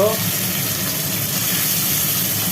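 Rohu fish frying in hot oil gives a steady, dense sizzle and crackle that continues evenly without a break, close and fairly loud.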